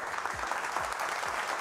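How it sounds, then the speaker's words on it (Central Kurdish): Strong, dense applause from a studio audience on a Kurdish television show, steady and close, filling the whole short stretch with a few low thumps beneath. "یەک چەپڵەی زۆر بەهێز"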